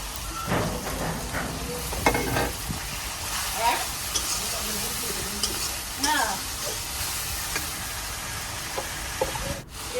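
A spice paste for a stem vegetable curry sizzles loudly in a pan while a spoon stirs and scrapes it in bursts, with brief faint sounds mixed into the frying.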